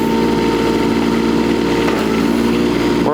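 A Kubota U10-5 mini excavator, a small 10-horsepower machine, digging with full control input. Its engine drones at a steady, loud pitch throughout, with a rising whine near the end.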